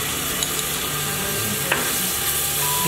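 Ginger, garlic and coriander paste sizzles steadily in a hot pan, a close continuous frying hiss broken by a couple of faint scraping stirs.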